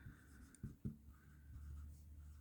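A pen scratching on paper while a cognitive dissonance note is written down, faint close strokes with a couple of sharper taps, alone with no voices over it.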